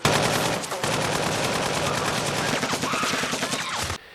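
Automatic machine gun fire rattles in one loud, sustained burst of rapid shots for about four seconds, then cuts off abruptly.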